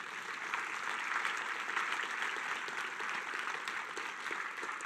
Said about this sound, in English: big, huge round of applause